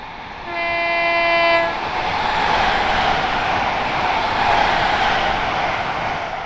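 A train passes through Tring station in a train simulator game, opening with a loud sustained horn blast, then a steady rushing rumble of the train running on without pause.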